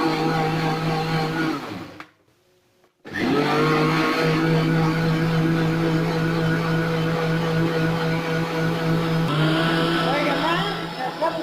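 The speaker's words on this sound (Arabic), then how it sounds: "هنضربهم اللبن بالسكر" A blender runs steadily, whisking milk with sugar into a sweet base for homemade Nutella-style spread; the loud continuous whir cuts out briefly after two seconds, then resumes and holds to the end.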